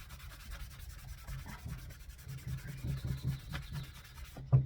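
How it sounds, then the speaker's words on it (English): A cloth rubs wood stain along the grain of a small wooden piece, giving a soft, close, repeated scrubbing swish in steady back-and-forth strokes, quiet and without speech, ending in a brief louder bump. "I'm just going to rub with the grain of the wood"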